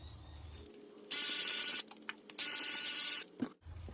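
Bolts coming off the timing cover of a 2009-on Hyundai Genesis during water pump replacement: two long bursts of a loud, harsh, buzzing power ratchet, separated by short clicks and handling noises, close by.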